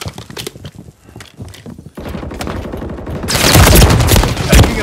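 Call of Duty gunfire crackles in a distant, scattered fusillade and then swells into louder, denser volleys of shots and impacts near the end.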